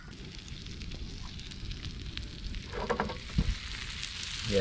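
Mackerel fillets fry in butter in a pan outdoors, giving a steady crackling sizzle with brief louder pops and spatters near the end, no talking over it.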